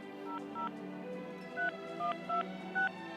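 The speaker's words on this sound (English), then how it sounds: "You got to dial a 1 before that." Telephone keypad dialing tones, a rapid series of short, evenly pitched beeps, each key press a brief clear tone, heard over a quiet background hum with no voices.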